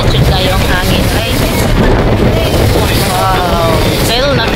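Strong wind at sea buffets the microphone, a loud continuous roaring rush with gusty swells, while voices speak faintly underneath.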